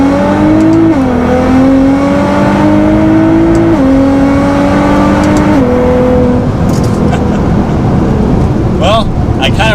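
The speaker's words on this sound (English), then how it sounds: "we will do just a first gear, full throttle acceleration" A Nissan GT-R in race mode makes a first-gear, full-throttle launch from about 18 mph, its engine note climbing in loud, rising pulls with brief dips at the shifts and a roar of wind and road noise near the mic.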